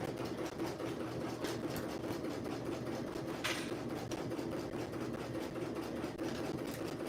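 A sewing machine runs in a steady, continuous hum as it stitches reinforcement over fabric tabs or straps that were already sewn, held at a moderate level with no talk.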